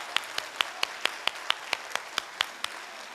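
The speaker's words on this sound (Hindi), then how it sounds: "लगातार ताली बजनी चाहिए सर।" A single pair of hands claps at a seminar in a steady, evenly spaced rhythm, about a dozen sharp, fairly close claps in three seconds, with no talking over them.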